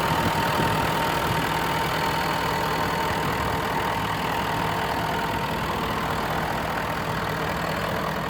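A 2012 Ford F250 pickup's 6.7 turbo diesel idles steadily up close, a continuous rumbling clatter with a faint turbo whine and no voices.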